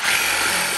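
A power tool grinds steadily through bolts during concrete wall demolition, in a brief continuous harsh whine, loud and close with no voices.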